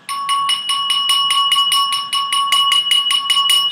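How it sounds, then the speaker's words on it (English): A tuned percussion instrument, struck with a hard mallet, rings out in a fast, even run of about fifteen bright, sharp-attack strokes with clear ringing tones, close and loud with no talk. "if I was to play the same instrument in the same way with a hard mallet"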